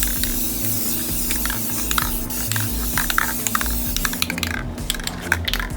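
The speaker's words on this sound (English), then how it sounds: "I need new spray cans." A spray paint can sprays brake parts for an S10 brake upgrade in a garage, with a steady close hiss broken by short bursts, nozzle spits and faint clicks.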